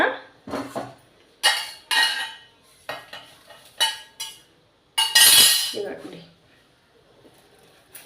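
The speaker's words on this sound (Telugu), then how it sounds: "ఇది కూడా ఈ మిక్సీ జార్లోకి వేసేసుకుందాం" Roasted coriander seeds, cumin, dried red chillies and curry leaves are tipped into a mixer jar, giving a series of close clinks, scrapes and rattles against metal and glass, several separate bursts with a longer clatter near the end.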